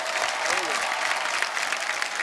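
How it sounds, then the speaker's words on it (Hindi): Steady applause from a studio audience at a Hindi comedy talk show, dense and continuous clapping with a faint voice briefly audible beneath it. "जोरदार तालियां हो जाएं।"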